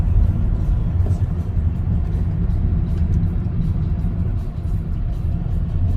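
A Toyota Camry 2.4 Q VVT-i accelerating through the gears, heard as a steady, loud low engine rumble with no distinct gear changes standing out.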